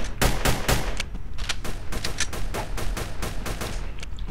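Rapid gunfire in the Roblox game Apocalypse Rising, a loud burst of sharp shots in a quick, uneven rhythm that keeps going throughout, with no talking over it.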